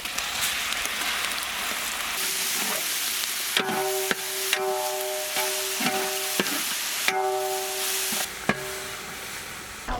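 Goat boti frying with onions and ginger garlic paste in a pan, a steady loud sizzle broken by sharp clinks and scrapes of a stirring utensil against the vessel.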